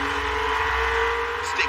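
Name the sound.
Maserati MC20 V6 engine revving on track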